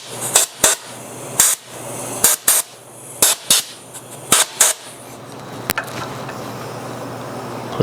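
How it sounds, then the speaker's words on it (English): Short blasts of compressed air spray onto a machined radial engine cylinder barrel in a workshop, a rapid series of about a dozen sharp hissing puffs over a low steady machine hum, then a fainter lingering hiss. "I'm going to give this a little spritz of air here"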